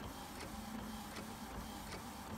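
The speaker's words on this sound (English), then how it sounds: "Okay, y'all, it's printing, so let's see." Epson 7710 inkjet printer running a sublimation transfer print, a steady mechanical whir with a repeating print-head pass clicking roughly every 0.4 seconds, close and continuous with no talking.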